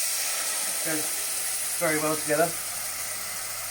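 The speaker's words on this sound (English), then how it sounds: "That will quite quickly sizzle off" A splash of white wine sizzles in a hot pan of mushrooms for a cream sauce, a steady loud hiss running throughout while someone speaks briefly over it.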